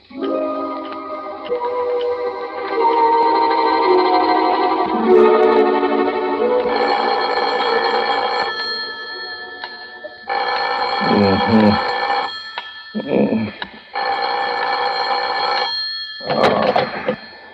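An old-fashioned telephone bell rings in a radio drama in repeated long jangling bursts, loud and close, with short pauses between the rings.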